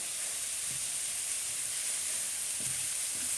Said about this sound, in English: You can hear all that sizzling in there.